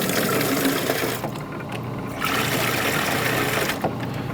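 Water flows steadily out of an SL 500 gravity model during cleaning, a continuous close rushing stream that dips briefly in the middle before resuming at full strength.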